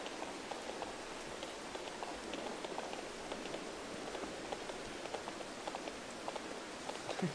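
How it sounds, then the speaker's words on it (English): A rainstorm in a video game: a steady, even wash of rain patter with tiny scattered droplet ticks, moderately quiet and continuous, with no voices. "You can't do anything without storms in this game."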